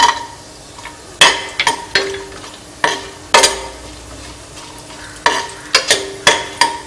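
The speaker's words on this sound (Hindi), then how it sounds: "सारे खड़े मसालों को हमने तेल में डाल दिया, ये हल्का भुन जाए।" Whole spices and cashews fry in oil in a pressure cooker for matar pulao, a low sizzle under repeated sharp clinks of a spoon stirring against the metal pot.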